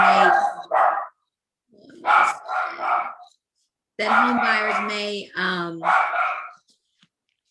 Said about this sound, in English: sounds like we have dogs in our house